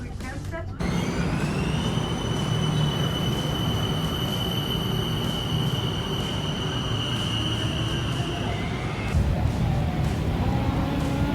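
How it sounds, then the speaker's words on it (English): A BTS Skytrain in Bangkok rumbles steadily along the track with a sustained high whine, loud and close as if heard from inside the carriage, with a brief shift in tone near the end. "now I'm going by the BTS line towards my hostel"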